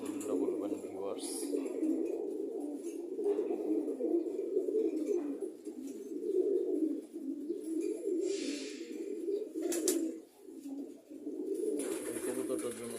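Pet pigeons coo in low, repeated throaty rolls, close and continuous, with brief pauses and a few scuffling sounds.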